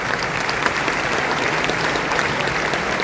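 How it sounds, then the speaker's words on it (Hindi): Loud, dense applause from a large audience at a stage event as the leaders are welcomed, a steady wash of clapping that holds at full strength for the whole stretch with no talk over it. "एक बार जोरदार तालियां सभी लीडर्स के लिए"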